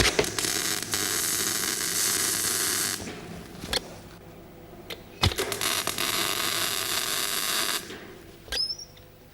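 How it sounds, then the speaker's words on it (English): Tack welding a steel repair plate onto a car body, heard as two long bursts of loud, harsh crackling hiss from the welder, split by a quieter gap with a few sharp clicks and metallic knocks. "I am now going to tack weld it where the plate is already touching down."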